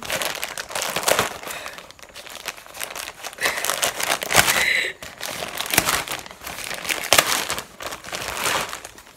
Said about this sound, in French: je vais déchirer ça